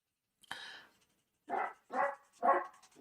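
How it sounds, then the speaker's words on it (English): Dogs bark in the distance, one yelp followed after a pause by three quick barks in a row, faint and somewhat muffled against a quiet indoor background. "I wish the dogs would all just rack off."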